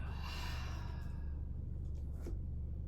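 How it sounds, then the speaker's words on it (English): A long, deep exhale during a fast-flow yoga breathing exercise, a soft airy sigh that fades gradually, close and quiet with no talking. "Take a nice deep inhale."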